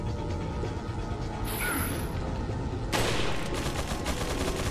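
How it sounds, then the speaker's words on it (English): Rifle fire in Resident Evil 4, a couple of sharp, loud shots with mechanical clicking between them, set against a dense game backdrop and no voices. "Let's see if we can kill him with the rifle again."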